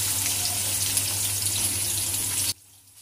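Onions frying in a pan for goat head curry, a loud, steady hiss that cuts off abruptly near the end, leaving quiet room tone.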